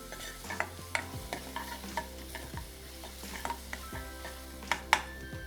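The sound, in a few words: garlic and cumin seeds sautéing in a pan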